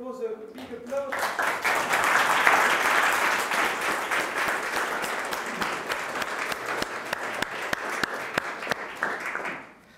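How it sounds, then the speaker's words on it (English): A conference audience claps after a talk on the war in Ukraine and its origins, loud dense applause sustained for several seconds with sharp individual claps standing out before it stops abruptly. "May I just propose a big applause?"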